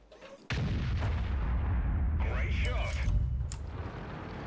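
A tank cannon fires in World of Tanks, a sudden heavy boom followed by a long low rumbling roar and mechanical rattle as engine noise continues; a voice talks briefly over it.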